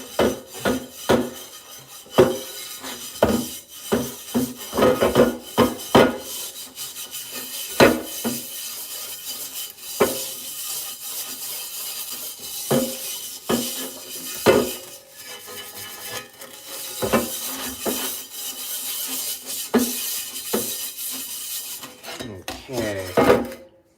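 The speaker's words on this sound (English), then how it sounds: "Throw on some Barkeeper's Friend. And you don't have to be shy. And start scrubbing away." Scrubbing a cast iron pan with Barkeeper's Friend cleanser: continuous close rasping scrub with frequent knocks and clanks of the pan throughout, some louder bursts near the end, no talking.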